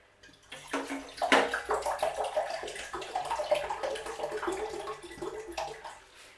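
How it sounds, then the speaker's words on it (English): Room-temperature water pours out of a jug during orchid repotting, a close, continuous splashing and gurgling stream that starts after a brief pause and runs steadily for several seconds before tapering off. "I'm going to empty some of this water out of this jug here."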